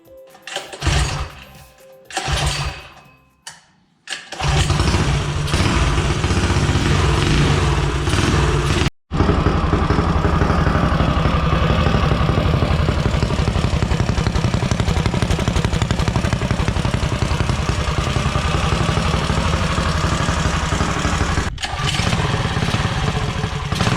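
A small engine bought for $80 and fitted to a Coleman CT200U-EX mini bike sputters briefly, then catches and runs steadily at a loud, close idle with a constant buzzing drone and one short cut-out partway through.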